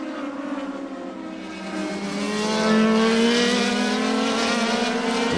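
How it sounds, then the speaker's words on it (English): Formula 3000 race cars at Imola in 2002 pass with a high-pitched, sustained engine scream that swells louder and shifts in pitch as the cars rush by, steady and strong with no talk. "Distinctive engine note from these cars"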